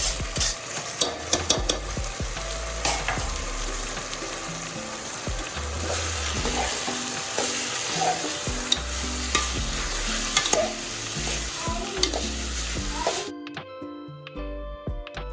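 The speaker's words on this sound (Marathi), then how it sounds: "आणि मग अशी धुवून ठेवलेले तांदूळ आणि डाळ टाकायचे आणि परत एकदा छान परतून घ्यायचं." Washed rice and dal being stir-fried in a pan for dal khichdi, a steady close sizzle with scraping spoon strokes throughout, ending abruptly near the end.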